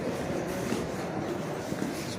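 A Montreal metro train rumbles underground as it pulls into Victoria station, a low continuous roar with faint rattling, heard steadily from inside the moving car.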